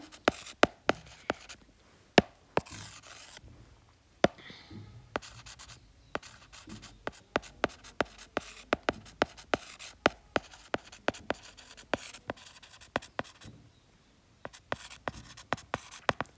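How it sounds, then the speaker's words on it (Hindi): Pen writing notes by hand on paper, a close, quiet run of rapid scratchy strokes and taps that keeps going with short pauses. "तो यहां पे ऐसे लिख दूं"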